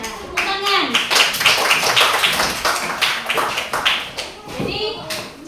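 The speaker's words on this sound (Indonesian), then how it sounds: "tepuk tangan" Schoolchildren in a classroom clap together for a group after its answer, a lively burst of tapping hand claps mixed with children's voices throughout.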